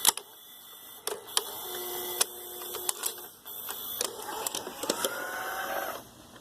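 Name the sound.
Goldstar VCP-106M VHS player loading motor mechanism changing modes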